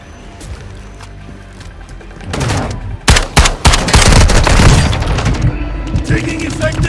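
Heavy gunfire in Call of Duty Warzone 2.0 DMZ on Vondel: scattered shots at first, then dense loud bursts of automatic fire and sharp cracks, with radio-style voices speaking over the firefight.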